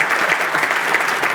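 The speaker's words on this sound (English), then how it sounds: "Let's give him a warm round of applause." A panel audience at a North Dakota corn and soybean farm event applauds steadily and warmly, dense clapping filling the whole moment without voices.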